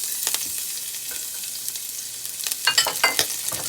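Garlic sautéing in vegetable oil in a pan gives a steady, close sizzle, with a few brighter crackles and stirring scrapes near the end.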